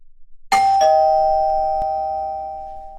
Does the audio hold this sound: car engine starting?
no